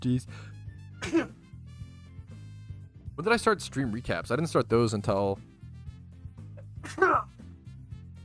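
A person talks in bursts, and a sudden sneeze breaks in near the end amid the speech.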